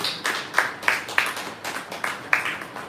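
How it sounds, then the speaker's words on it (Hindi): Church congregation clapping in a steady rhythmic beat, roughly two claps per second, moderately loud and slightly reverberant, with a few voices faintly underneath. "जोरदार तालियों के साथ परमेश्वर की महिमा करेंगे।"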